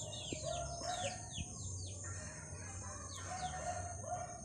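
Native Philippine chickens outdoors at a trapping site, with several roosters crowing near and far and repeated clucks, overlapping over a steady low rumble of background noise.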